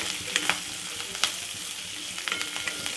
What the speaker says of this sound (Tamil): கருவேப்பிலையும் வெங்காயம் பூண்டோடு சேர்ந்து நல்லா வதங்கி வரணும்